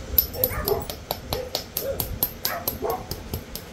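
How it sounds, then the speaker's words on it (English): A dog on a property with many dogs barks repeatedly in quick, uneven bursts with some yips, fairly close and loud, with no talking over it. "Sorry about the dog barking."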